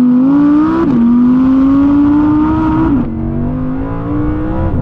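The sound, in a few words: Audi R8 V10 engine revving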